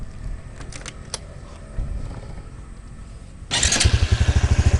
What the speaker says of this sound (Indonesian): Jadi engine brake itu seperti ini.